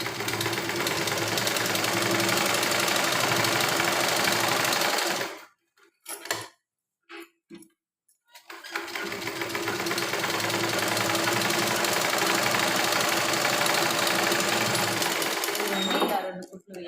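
Electric sewing machine stitching a blouse lining, running in long steady bursts with a short pause of a few quick stops in between, loud and close.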